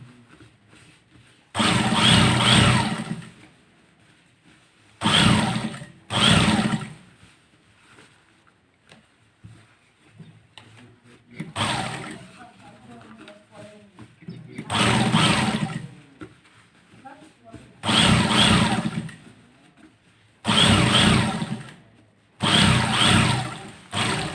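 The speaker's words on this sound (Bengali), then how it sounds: "আপনারা দেখেন আমি কীভাবে সেলাই করতেছি, খেয়াল করেন। চাপ দেবো এখন।" A sewing machine stitching a kallidar punjabi runs in loud, steady whirring bursts of one to two seconds, separated by quiet pauses as the fabric is repositioned.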